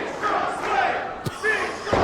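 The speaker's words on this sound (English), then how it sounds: "the chant from the crowd" Crowd at a wrestling show, Glory Pro Wrestling's Ascend, chanting for wrestler Raheem de la Suede: a steady rhythmic crowd roar of voices with a sharp thud near the middle and commentary talk running throughout.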